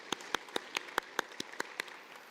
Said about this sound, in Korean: 우리 귀한 분들 위해서 다시 한번 큰 박수로 축복하셨으면 좋겠습니다.